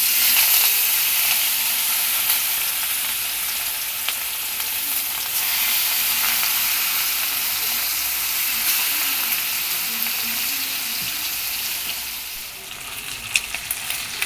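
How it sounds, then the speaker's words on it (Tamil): Prawns fry in hot oil with a loud, close, continuous hiss and sizzle that holds steady, then eases slightly near the end with a few small pops. There is no talking. "எண்ணெய் காஞ்சிடுச்சு. இப்போ இறா போட்டுக்கலாம்."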